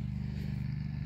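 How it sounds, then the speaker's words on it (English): A friend's garden tractor pulls up at night with a steady low engine drone, close by and continuous, with no voices. "my friend is arriving right now with his garden tractor"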